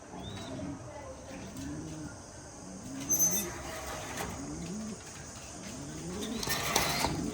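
Racing pigeons coo softly in a loft, repeated rounded calls rising and falling every second or so, fairly close, over a quiet background with faint extra noises.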